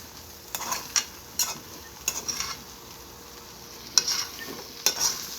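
Rice being stirred in a pan over the lowest heat, a soft continuous sizzle punctuated by a handful of brief scraping strokes of the spoon at irregular intervals, fairly quiet and close, with no talking.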